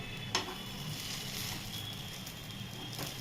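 Stuffed bitter gourd frying in a pan, a steady moderate sizzle with a single sharp clink near the start as a piece is turned over slowly.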